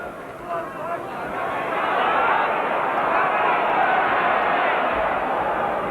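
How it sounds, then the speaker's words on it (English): A big boxing crowd at the Royal Albert Hall roars steadily as it urges on heavyweight Joe Bugner against Eduardo Corletti, a dense, sustained wall of shouting and cheering that swells after the first second and holds loud throughout. "the whole of this Albert Hall crowd now absolutely pleading with Bugner to begin to let him go"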